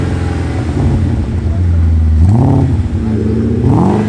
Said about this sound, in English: Let's hear a rev.